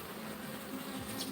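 Honey bees buzz in a faint, steady drone around an opened hive, the sound continuous without pauses.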